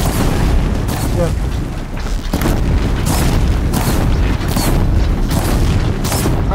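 Continuous loud weapon fire in Horizon Zero Dawn, booming shots and impacts in steady, dense succession with hardly a gap, layered over game effects.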